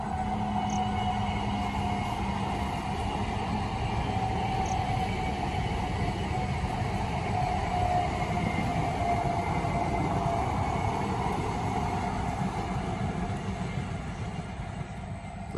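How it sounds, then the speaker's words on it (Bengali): A train rolls past at night, a steady, continuous rumble with rail clatter and a faint whine holding at a fairly even level throughout, with no voices. "আমরা এখন দেখব ট্রেন যাচ্ছে"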